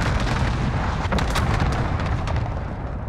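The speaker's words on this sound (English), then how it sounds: "Enemy cluster strike incoming. Take cover." A cluster strike in Call of Duty Warzone pounds down as a rapid rolling barrage of explosions, loud and continuous for a few seconds, with no talking.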